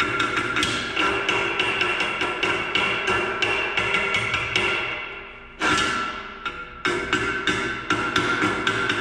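Repeated sharp taps of a chipping hammer knocking slag off a 7018 vertical fillet weld in steel plate, a steady run of close, bright metallic strikes with a brief pause midway.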